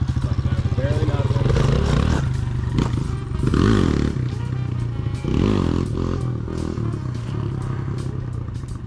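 Motorcycle engine roaring loudly and steadily while accelerating in second gear during a wheelie session, a dense close rumble with rising surges and rattling underneath.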